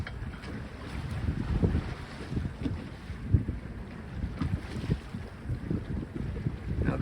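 A sailboat jibes in strong wind. Gusty wind buffets the microphone over rushing water and wave wash in a continuous, fluctuating roar, with no talk.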